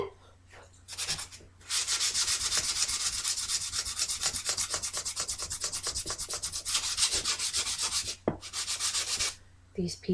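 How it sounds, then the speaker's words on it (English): Sandpaper rubbed back and forth over small wooden pieces in a rhythmic scratching, steady strokes close and clear for several seconds, with brief pauses and no speech. "I'm just gonna see if I can sand these down a bit."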